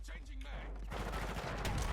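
Dense gunfire from a firefight in Call of Duty: Modern Warfare II, sustained and fairly loud through most of the clip, with bursts growing busier in the second half.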